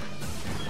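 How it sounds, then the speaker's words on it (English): A short crash of shattering glass rings out in Ultra Street Fighter IV, a single loud smash that fills the brief moment alone. "You can hear the glass shattering."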